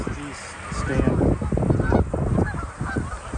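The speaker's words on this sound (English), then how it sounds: "there's a barnacle goose" A barnacle goose honks from standing water near a flock of gulls on Prince Edward Island, with repeated calls at moderate distance under steady outdoor background noise and some quiet talk.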